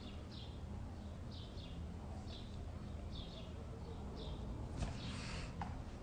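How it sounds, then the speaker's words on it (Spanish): Small birds chirp in short, repeated high calls among trees outdoors, set against a steady low rumble of background noise, with a brief louder burst near the end. "Aquí se escuchan los pajaritos, los árboles"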